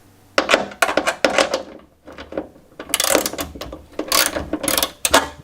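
A ratchet wrench loosens the 10mm bolts on a Mitsubishi Lancer tail light, giving close, rapid bursts of clicking ratchet strokes separated by short pauses.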